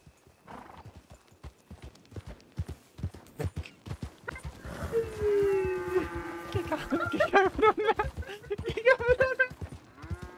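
Cattle lowing in a western video game with horse-taming at Blackwater, heard as several drawn-out moos over a steady clip-clop of hooves, with people talking over them.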